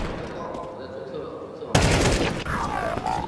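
Shots ring out during a Counter-Strike 2 match at the Shanghai Major 2024 elimination stage, a burst of loud gunfire erupting midway over a busy background of crowd and commentary noise.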